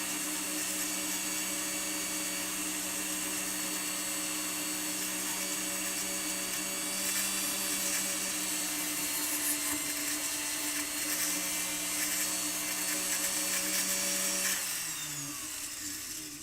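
A rotary tool spins polishing brushes against jewelry, making a steady high-pitched whine with a constant hum. The tool runs close and continuous, then winds down near the end.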